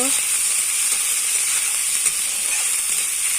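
Spices sizzling in a pan with potatoes for a banana-flower (mocha) dish, a steady close frying hiss throughout with faint stirring clicks.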